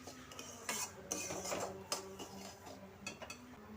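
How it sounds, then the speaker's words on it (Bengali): Sugar being stirred in a pot for sweet mithi pulao, with a utensil scraping and clinking against the metal in irregular taps over a steady low hum, fairly quiet and close. "চিনিটা দিয়ে আমি একটু নাড়াচাড়া করে নিচ্ছি।"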